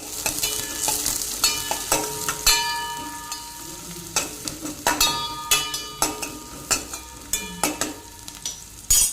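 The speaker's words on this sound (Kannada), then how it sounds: "ಇಲ್ಲಿ ಒಂದು ಪಾತ್ರೆಯಲ್ಲಿ ನಾನು ತುಪ್ಪ ಹಾಗೂ ಎಣ್ಣೆಯನ್ನು ಹಾಕಿದ್ದೇನೆ. ಇವಾಗ ಇದಕ್ಕೆ ನಾನು ನೀರುಳ್ಳಿಯನ್ನು ಹಾಕಿ ಫ್ರೈ ಮಾಡ್ತೇನೆ." Onion frying in ghee and oil in a metal pot, with a steady sizzle under repeated rhythmic clinks and scrapes of a stirring spoon against the pot, close and fairly loud.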